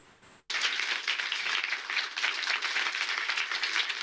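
After a brief quiet moment, applause erupts for the Ukrainian student receiving the Global Student Prize 2022, a full, even roar of many clapping hands that carries on steadily.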